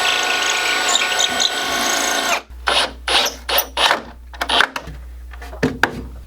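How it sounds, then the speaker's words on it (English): A power drill runs in a steady whine, stops, then a series of short, sharp bursts follows as it drills holes into a concrete garage wall for anchors, with pauses between them. "you're gonna have to drill out some holes and use some concrete anchors"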